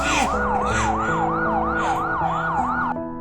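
A police siren wails up and down in a regular, fast-cycling pattern, loud and close, cutting off abruptly near the end.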